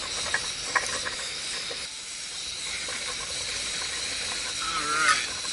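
Water boiling in a pot on a backpacking stove outdoors, a steady hiss with faint bubbling throughout, close and moderately loud, with a brief louder surge near the end.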